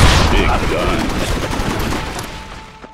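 Big guns firing in a Capture the Bag multiplayer match in Armadillo in Red Dead Redemption, a loud dense burst of rapid overlapping shots that gradually fades over a few seconds.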